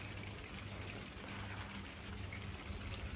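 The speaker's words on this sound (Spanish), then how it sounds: "Está lloviendo." Steady rain patters continuously, a dense, even hiss with light drops, no voices.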